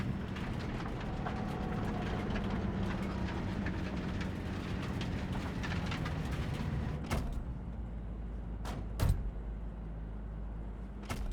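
A train in Cyberpunk 2077 rolls past with a steady, loud rumble and rattling clatter that cuts off abruptly, leaving a quiet hum broken by a few sharp clicks and one dull thud.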